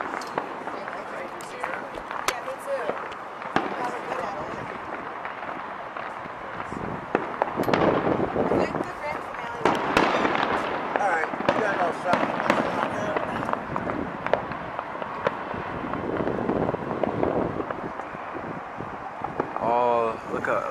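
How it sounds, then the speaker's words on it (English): Fireworks bursting over New York, watched from a rooftop, come as a steady run of distant pops and crackles over a wind-buffeted, noisy background. "we are on the top of the roof watching the fireworks"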